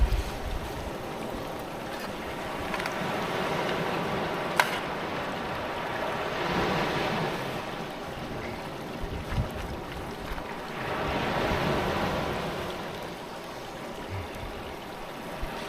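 Waves on a beach, heard as a steady broadband wash with two slow, louder surges rolling in and fading, mixed with wind buffeting the microphone and no voices.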